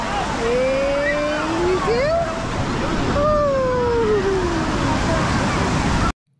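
Sea waves wash steadily onto the beach at Puri, a continuous broad surf roar with voices calling and talking over it throughout.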